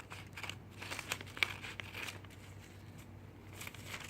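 Scissors cutting paper into an appliqué flower design, with soft crinkling and snipping sounds in a faint, irregular run, close by and quiet, with no talking.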